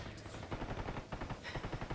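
Rapid gunfire from a tactical shooter match in Ghost War PvP at a zinc mine and lumber mill, bursts of automatic shots crackling steadily across two seconds at moderate loudness without speech.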